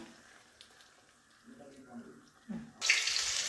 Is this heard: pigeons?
no